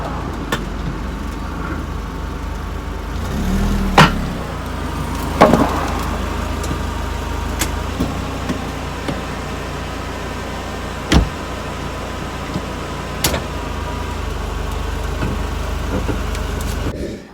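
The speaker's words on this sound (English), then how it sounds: "Let's get the car on some ramps so we can get underneath it." A Mercedes SLK R170 rolls slowly onto car ramps, its engine a steady low drone close by, with a few brief knocks and thumps as the wheels climb.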